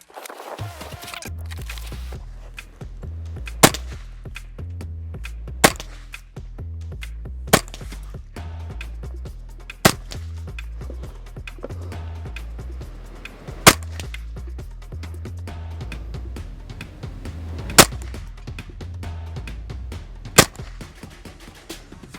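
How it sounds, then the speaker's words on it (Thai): Rifle fire at 2-inch targets set 20 to 70 metres away, with a scope-mounted long gun: several sharp, isolated shots spaced a few seconds apart over a steady low rumbling background. "เดี๋ยวผมจะทำการยิงราวระยะให้ดูเนาะที่ ระยะตั้งแต่ 20 เมตรไปยัน70 เมตรนะครับ ด้วยขนาดเป้า 2 นิ้วนะ"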